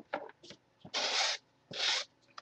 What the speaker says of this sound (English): Just taking a little sanding.